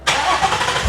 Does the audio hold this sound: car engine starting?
yes